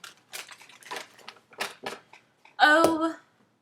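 Tarot cards are shuffled by hand in a series of quick papery bursts and riffles at close range. A brief voiced sound follows near the end.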